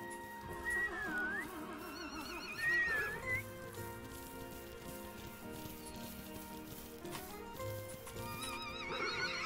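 Horses in the ranch video game Rivershine whinny twice in clear, high neighs over steady clip-clopping hooves and a layer of soft game music and ambient chimes.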